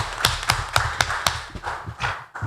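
Rhythmic clapping from an audience at a pre-election civic event, sharp claps landing in a steady beat that loosens toward the end.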